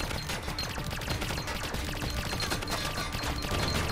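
Dense, rapid gunfire from shooting toads in the video game Greedland, with constant overlapping shots crackling steadily and fairly loud throughout.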